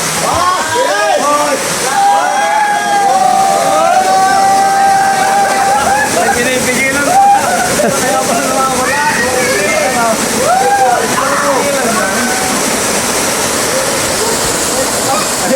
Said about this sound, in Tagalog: Napakaganda ng falls, ay wow wow, malakas ang agos at maraming nanliligo.